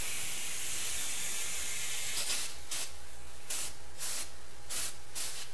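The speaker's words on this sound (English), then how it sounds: "So I'll spray a little brake clean in there and then blow it out with some air, compressed air." A continuous hiss of aerosol brake cleaner sprayed into a threaded hole gives way to several short, forceful blasts of compressed air, loud and close, with no talking.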